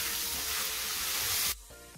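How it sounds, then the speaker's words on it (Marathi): Jackfruit curry sautéing over low heat in a pan gives a loud, steady broadband sizzle that cuts off abruptly near the end, leaving a quieter background with faint low clatter. "त्याच्यात मंद आचेवर छानपैकी झाकण ठेवून परतून घ्यायचं आहे."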